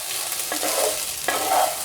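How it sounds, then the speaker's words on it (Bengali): Basmati rice with green peas frying over a high flame in a pan, stirred with a utensil: a steady close hiss of sizzling broken by a few scraping stirs, with no voices. "এখন খুব ভালো করে চালটাকে একটু হাই ফ্লেমে ভেজে নিতে হবে।"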